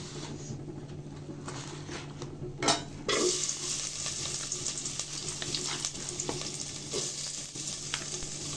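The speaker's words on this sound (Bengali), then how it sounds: "তেলটা গরম হয়ে গেলে দিব পেঁয়াজ কুচি," Chopped onions hit hot oil in a pan while cooking a rohu fish curry with pumpkin bori and eggplant: a loud burst of sizzling, then a steady close frying hiss with faint clinks of a stirring utensil and no talk.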